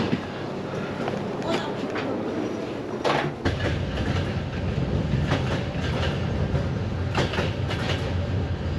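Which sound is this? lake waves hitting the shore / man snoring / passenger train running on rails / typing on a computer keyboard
passenger train running on rails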